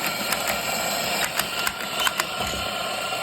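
A coffee grinder for a Pasquini espresso machine grinds beans in a steady, close mechanical whir with faint ticking and rattling peaks throughout.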